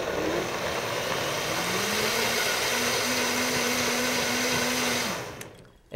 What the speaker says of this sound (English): If you have a variable speed blender,